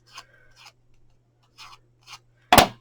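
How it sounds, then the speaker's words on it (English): Paper strips for a tea light candle gift box being curled under with scissors: a few soft, short scraping strokes spaced apart, then one louder, sharper rasp at the end over a faint steady hum. "we're just going to curl with our scissors"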